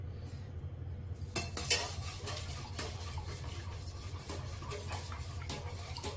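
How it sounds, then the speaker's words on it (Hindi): A spoon stirs a pizza sauce mixture in a pan, giving soft continuous scraping and rubbing strokes with a sharp clink near the start, quiet and close, without any speech. "साथ साथ चम्मच हिलाते रहना है ताकि अंदर कोई गुठली ना बने"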